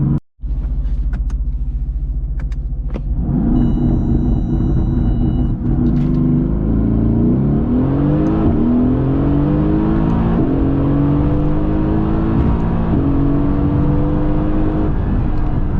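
Mercedes-AMG GT S launching with launch control, the engine held at high revs and then accelerating hard through rising gear pulls, a loud steady roar heard from inside the car.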